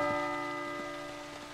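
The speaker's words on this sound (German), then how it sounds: "Lass mal noch das kurze Glockenspielchen hier spielen." A short, soft bell chime in the horror video game P.T., a few gentle ringing strikes with lingering tones, faint and alone.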